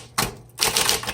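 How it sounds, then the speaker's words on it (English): A 1960s Smith Corona Coronet electric typewriter types in two quick, close bursts of crisp, rapid clacking separated by a short pause. "I like this typewriter because for an electric, it's very quiet."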